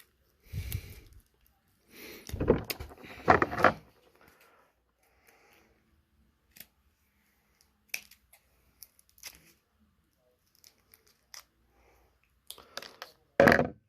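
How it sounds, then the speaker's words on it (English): Scissors cut around the plastic packaging of an AEW Unrivaled Kenny Omega action figure, making crunchy snips and rustling crinkles in short bursts separated by quiet pauses, with a few sharper clicks near the end. "I'm going to have to, like, cut around this to try to get it all off."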